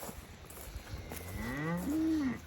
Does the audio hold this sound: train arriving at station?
no